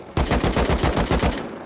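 Rapid burst of automatic gunfire in the Rust survival video game, about a dozen evenly spaced shots lasting just over a second, loud and close, with no talk over it.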